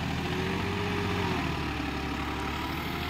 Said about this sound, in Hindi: ट्रैक्टर को सभी गेयरों में चला के देख रहे हैं